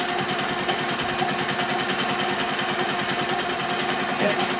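A sewing machine free-motion quilting a half square triangle runs in a fast, even needle rattle that stays continuous and close throughout, with no talk.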